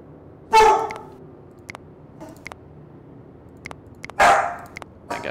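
Two household dogs bark loudly and close by, with a sharp bark near the start and another about three seconds later, and light clicks and taps in between.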